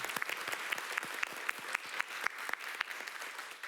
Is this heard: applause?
yes